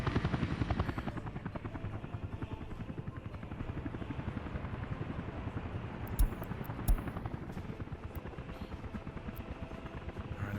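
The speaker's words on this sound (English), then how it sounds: "Fire trucks and a helicopter are responding" A helicopter responds to a building fire in the video game Workers & Resources: Soviet Republic, its rotor chopping steadily and loudly throughout with a couple of brief clicks partway through.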